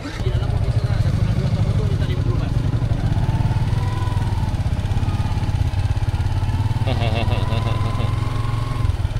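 A motorcycle engine runs close by on Koh Samui with a steady low rumble and putter, while people chatter in the background.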